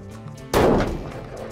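A rifle fitted with a Pure Carbon barrel fires a single loud, close gunshot outdoors during an elk hunt in California, a sharp blast followed by a brief decaying rumble after a quiet lead-in.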